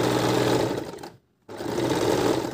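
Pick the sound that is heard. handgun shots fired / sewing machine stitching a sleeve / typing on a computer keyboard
sewing machine stitching a sleeve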